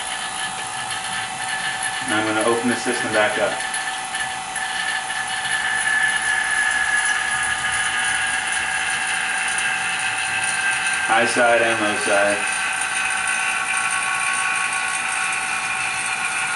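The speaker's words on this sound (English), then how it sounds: "I'm firing up the vacuum pump," A steady mechanical hum with a high whine runs throughout, as a car air-conditioning vacuum pump drones continuously while a person speaks briefly twice over it.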